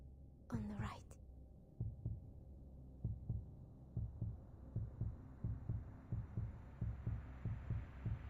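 In the video game Reverse: 1999, a heartbeat thumps in steady, soft double beats that start after a brief breathy whisper and continue under a low hum.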